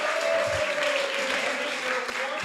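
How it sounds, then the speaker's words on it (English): A big round of applause from an audience welcoming a guest onstage, a continuous mass of clapping at steady volume with faint voices underneath. "Let's have a big round of applause"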